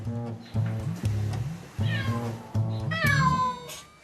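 A house cat meows repeatedly to be let outside, several loud drawn-out cries in a row with short pauses between them, close to the listener.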